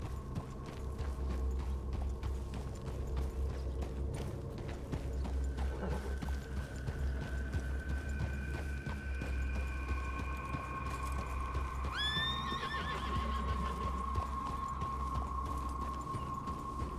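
Several horses in a Western roleplay video game clip-clop steadily on the ground, with a faint whinny and a rising tonal sound partway through, all fairly quiet.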